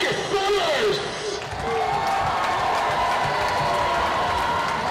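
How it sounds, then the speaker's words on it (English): A stadium crowd at a high school football game between Lee's Summit West and Blue Springs at Titan Stadium applauds and cheers steadily after an announcer's introduction, a dense continuous roar with whistles and shouts layered over it. "how about a big round of applause"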